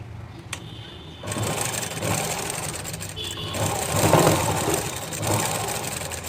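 A sewing machine stitches a folded blouse hem with a long stitch, starting after a brief quiet moment and then running steadily and close for several seconds.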